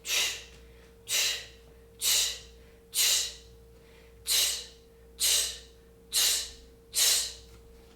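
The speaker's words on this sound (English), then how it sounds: "So you should be breathing." Heavy breathing during a workout, eight sharp forceful exhales arriving at a steady pace about one per second, close and loud over a quiet hum.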